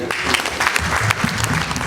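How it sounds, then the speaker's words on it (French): Loud, dense applause from an audience at a merit award ceremony for a charitable association, sustained steadily for about two seconds with no speech over it. "On applaudit très fort pour Ethiopian"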